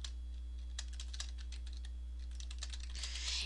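A page title is typed on a computer keyboard in quick, irregular clusters of soft key clicks over a faint steady hum, fairly quiet and without speech.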